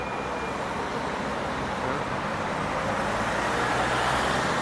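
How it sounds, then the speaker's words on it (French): A long black articulated bus passes by on a city street, its steady engine and road rumble filling the whole stretch at close range, with no talk. "vous voyez un bus articulé qui est en train de passer"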